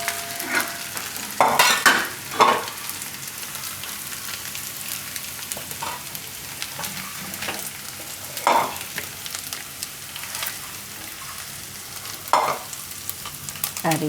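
Taro pieces frying in oil in a pan while being cooked until coloured for Gujarati paratha, giving a soft, steady sizzle with a few sharper stirring clatters spread through the clip, fairly quiet and without talk.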